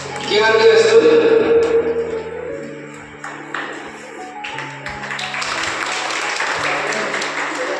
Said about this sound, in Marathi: टाळ्या वाजवूया जोरदार